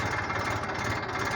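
A tractor engine runs steadily while tilling a farm field, a dense, even rumbling drone with a faint vibrating pulse and no pauses.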